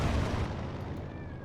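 Booming cannon fire from a World War II battle in the strategy game Company of Heroes 2, Wehrmacht against Soviets, as Grenadiers attack, with a dense, rumbling blast that fills the whole moment and slowly fades.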